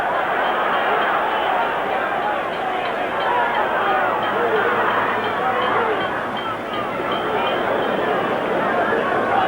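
A football stadium crowd at a Peru versus Bolivia qualifier for Italia 1990 cheers its side with a steady, dense roar of massed voices that holds without a break throughout.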